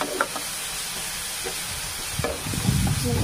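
A paste of chili powder, tomato, garlic and onion poured into hot oil hisses and sizzles steadily, with a few soft stirring scrapes and a bubbling swell toward the end.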